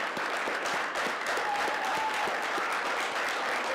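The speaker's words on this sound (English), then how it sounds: "One more round of applause for Del City Fire Department, Police Department" An audience at a city council meeting applauds the Del City fire and police departments, sustained, even clapping from a full room heard at moderate distance with no one speaking over it.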